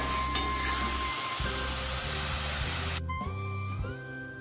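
Kharkol leaf paste with prawns stirred and fried in a pan, a steady close sizzle with scraping stir strokes throughout, no talking.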